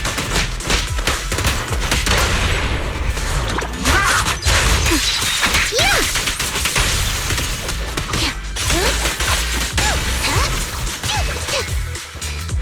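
Sustained gunfire in the action game Zenless Zone Zero, a dense rapid barrage of shots and impacts over a busy music and effects bed, loud and continuous throughout.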